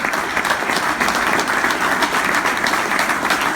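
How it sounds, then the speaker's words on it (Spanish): A crowd at a political speech gives loud, sustained applause for Milagro Sala, a dense, steady wash of clapping filling the whole moment without talk. "la compañera Milagro Salas, para la cual pido un gran aplauso"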